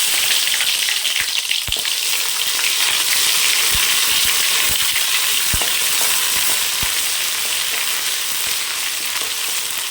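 Curry leaves, ginger and garlic sizzle steadily in hot oil for a goat head curry, a loud continuous crackle broken by occasional sharp pops and the clack of a stirring spoon.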